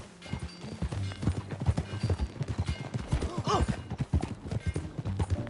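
Horse hooves clip-clop steadily in Red Dead Redemption 2, a close, rhythmic run of hoofbeats with a brief whinny partway through and game voices talking over it.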